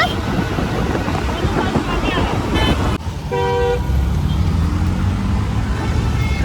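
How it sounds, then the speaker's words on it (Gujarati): Busy road traffic in Gandhinagar, with a steady loud roar of passing vehicles, wind buffeting and a short horn toot in the middle, while people talk over it. "traffic traffic traffic Gandhinagar"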